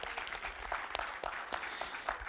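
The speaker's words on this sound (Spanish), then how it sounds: "Vamos a darle un aplauso a aquellos y aquellas que tienen 20 años en el Evangelio" A church congregation claps in a steady, fairly faint round of applause, many hands blending into a continuous patter throughout.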